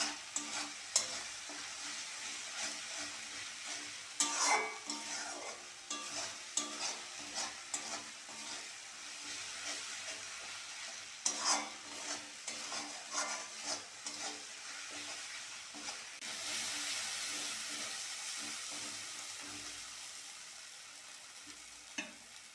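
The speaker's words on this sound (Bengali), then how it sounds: "হলুদের গুঁড়ো, মশলাটা ভালো করে কষে নেব" Spice masala with turmeric powder is stir-fried in a pan for a dhaba-style egg curry, giving a soft continuous sizzle broken by repeated scraping stir strokes and clinks, quiet and close with no voices.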